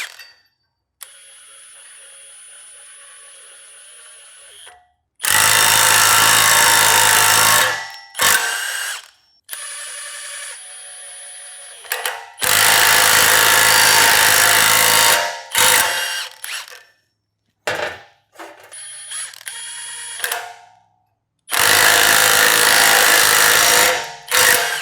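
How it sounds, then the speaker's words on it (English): A ball joint press squeezes new lug nut studs into a Jeep chromoly axle shaft, giving loud mechanical cranking bursts in several long runs separated by short pauses, with no talking. "Pressing the new studs, I use a ball joint press."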